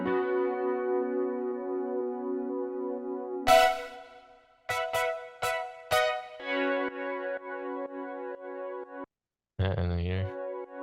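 Layered brassy synth tones from an FM8 software synthesizer, sustained chords with several short stabbed hits in the middle, then a held chord and a brief swelling tone at the end, loud and close.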